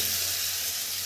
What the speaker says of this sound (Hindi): तड़का हो गया है मेरा। अब इसमें भिंडी जाएगी।